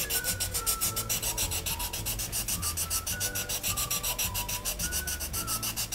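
Steady, rhythmic rubbing and scraping of a nail file sanding a foam craft doll's head round, with quick repeated strokes close by and faint background noise.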